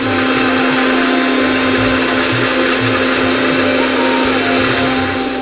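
A mixer-grinder runs loud and constant, blitzing cashews and almonds into a fine powder, its motor whine steady throughout with faint rattling of the nuts inside and no speech.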